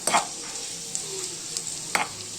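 A spoon stirs egg fried rice in a hot pan, giving a soft background sizzle with a few sharp scraping clinks spaced apart.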